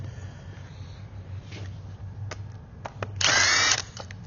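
A power driver removes hex head bolts from a water pump housing during a seal kit rebuild, a short close whirr burst after some faint clicks and handling noises over a low background hum.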